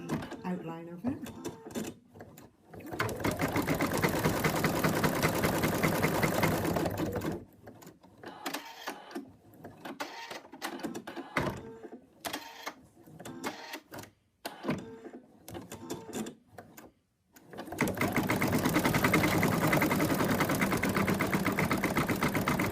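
An embroidery machine stitches out the mouth outline of a cat design in steady, fast bursts of needle rattle, broken by pauses in which a person talks.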